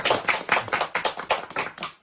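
Youth group members clap together to welcome new students, a quick run of about nine even hand claps close by with no talking.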